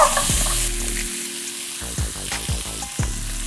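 Beef short ribs sear in a hot pan with a steady, close sizzle. Scattered clinks and stirring noises come through the frying.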